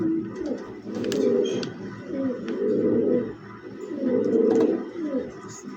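A male club racing pigeon from 2025 coos close by in three or four rhythmic, throaty bursts separated by short pauses, clear and fairly loud.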